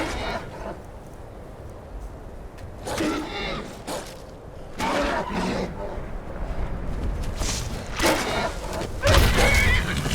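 A horse in the game Skyrim neighs and whinnies several times in bursts, loud and close, with soft rumbling in between and no speech.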